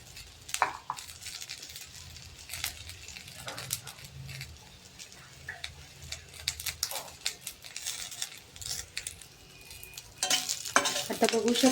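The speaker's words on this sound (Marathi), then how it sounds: "ह्याला खरपूस रंगापर्यंत आपल्याला भाजून घ्यायचं आहे" Garlic and masala roasting in a pan until crisp, a steady sizzle broken by frequent spoon scrapes and stirring clatter, close up, with louder stirring near the end and no voices.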